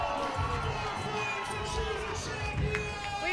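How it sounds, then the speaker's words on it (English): A crowd at a disc-sport league final cheers and shouts with excitement after a shot forces overtime, a dense, sustained roar of many voices with shrill children's yells mixed in. "So the crowd is excited."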